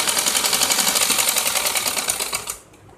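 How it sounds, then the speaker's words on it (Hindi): A sewing machine stitches the waistband (nefa) of a salwar in a rapid, steady mechanical run that sounds close and loud, then stops abruptly, leaving a faint hum. "अब हम इसके बाद नेफा सिलाई करेंगे।"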